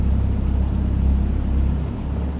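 A motorboat engine drones steadily and loudly on a lake in cold weather, a long-tail-style boat with a low, even rumble and some water and wind noise throughout, with no talking.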